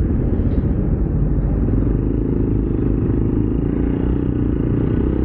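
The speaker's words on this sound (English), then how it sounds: "The motorcycle, this motorcycle is doing fine." A small CF Moto Papio XO-1 motorcycle climbs an incline in second gear, its engine a steady, close drone with low rumble and light clatter throughout, no speech.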